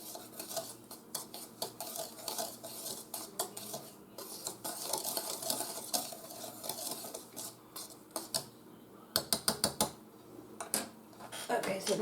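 Apple cobbler batter being mixed in a bowl, with a utensil clinking and scraping against the dish in quick irregular taps, close and fairly loud, a faint voice underneath.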